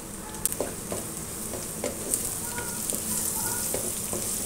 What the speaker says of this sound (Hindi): अब मैं इसमें ये डालूँगी अदरक लहसुन का पेस्ट